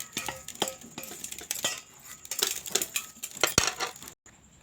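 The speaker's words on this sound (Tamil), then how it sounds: "இப்போ நம்ம அழகாக கிண்டி விட்டுக்கலாம்." A spoon clinks and scrapes against a pan while green gram is stirred, producing irregular metallic taps and rattles close by. Near the end it drops to near silence.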